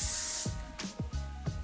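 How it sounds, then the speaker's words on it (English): A bright hissing spray burst of hair and body shine mist from a pump bottle, followed by soft handling noises and light rustling close to the mic. "this is the hair and body shine mist"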